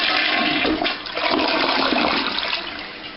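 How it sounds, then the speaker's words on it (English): A newly installed commode flushes close by, a loud rushing surge of water swirling and draining through the bowl for a few seconds before easing off, with no talk. "So let's give her a flush here."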